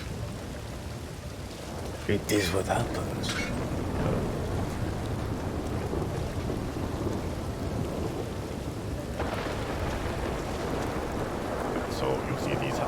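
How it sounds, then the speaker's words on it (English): Steady heavy rain and rumbling thunder in the RedM roleplay video game, a loud continuous downpour with rolling thunder and a brief voice speaking early on. "it starts to rain right when we're getting ready to head out"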